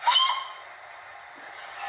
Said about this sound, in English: F3 is a short whistle